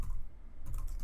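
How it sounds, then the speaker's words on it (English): A few soft keystrokes as a command is typed on a computer keyboard while configuring a network switch interface, quiet clicks in a short burst over low background noise. "I'll also examine some summary information about the interface by typing in the command show IP"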